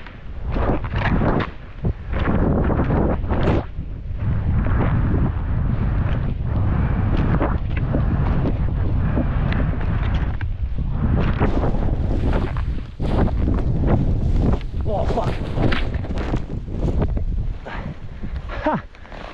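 Strong wind roars and buffets across a ski slope at Whistler Blackcomb during heavy snowfall, loud and continuous with gusts, as people talk over it.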